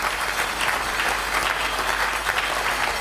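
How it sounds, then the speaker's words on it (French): A church congregation applauding loudly and steadily, a dense sustained wash of clapping that fills the space without pause. "Est-ce que nous pouvons acclamer très fort?"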